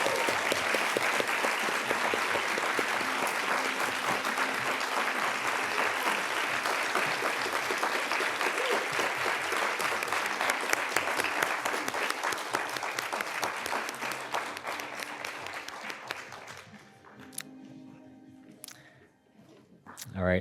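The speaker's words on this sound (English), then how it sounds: "please join me in a huge round of applause to congratulate all of our outstanding student award recipients" A large audience at a university sustainability awards ceremony applauds student award recipients with dense, sustained clapping that fills most of the stretch before tapering off into scattered claps near the end.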